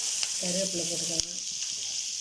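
Curry leaves drop into hot oil for a poori kurma, setting off a close crackling sizzle with a brief sharp pop near the middle, and no one speaks.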